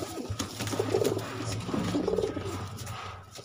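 Pigeons coo on a rooftop, with a few repeated low, throaty calls close by, rising and falling in soft rolling phrases against a light background hiss.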